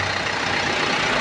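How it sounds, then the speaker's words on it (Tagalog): A Kia Sorento's air-conditioning compressor with a faulty bearing gives a steady, close, rough whirring drone under an engine-like hum, unbroken for the whole moment, with no voices. "ito yung sa aircon. May problema yung bearing niya."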